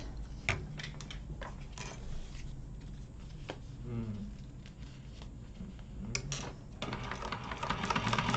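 A sewing machine stitches through a leather-style wallet during a quick tension test, running in a dense rapid patter of needle strokes with brief pauses and restarts, fairly close and steady.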